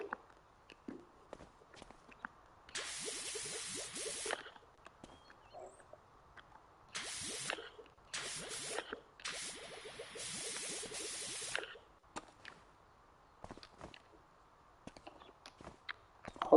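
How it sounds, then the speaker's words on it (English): A power washer soap nozzle spraying multi-purpose cleaner in Power Wash Simulator, heard as several hissing bursts of spray that start and stop, some lasting a couple of seconds, between quiet stretches with light tapping steps. "Get the soap nozzle on, multi-purpose cleaner."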